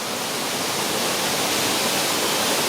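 Above Amarun Falls in Ecuador, the waterfall gives a loud, continuous broadband rush of falling water, steady throughout with nothing else audible.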